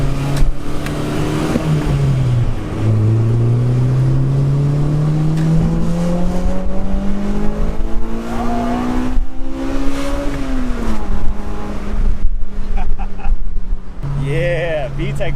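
A Honda Civic Type R EK9 VTEC engine with factory cams revs hard and climbs in pitch through the gears, loud and close, with exhaust roar and a few pops near the end.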